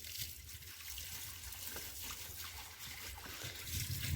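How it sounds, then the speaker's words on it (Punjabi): Dirty water from a cattle shed runs steadily along a cemented channel, a continuous close trickling and gushing flow with no talk. "ਦੇਖੋ ਹੁਣ ਬਹੁਤ ਵਧੀਆ ਪਾਣੀ ਜਾ ਰਿਹਾ ਗੰਦਾ ਪਾਣੀ ਡੰਗਰਾਂ ਵਾਲਾ"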